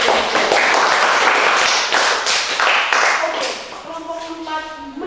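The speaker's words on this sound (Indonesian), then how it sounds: "Oke, mari kita tepuk tangan dulu." Audience in a classroom presentation clapping hands in a dense burst that fades, with voices talking over and after it.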